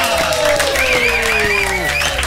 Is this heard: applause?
yes